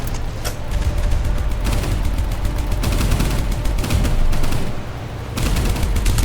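Sustained anti-aircraft gunfire at a Zero fighter in a Pacific naval combat game aboard a boat, a dense, loud, continuous rattle of rapid shots with brief pauses, heard alone.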